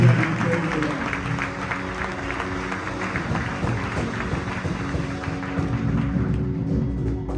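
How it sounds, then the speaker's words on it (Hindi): Church congregation applauding during a full service, a broad, moderately loud patter of many hands clapping, steady across the clip, with a low hum and faint voices mixed beneath. "जोरदार तालियां जिंदा खुदा के लिए।"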